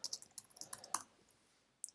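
A run of quick, light clicks from a single letter key being pressed repeatedly on a computer keyboard, close and clear, ending in a brief pause before one last tap.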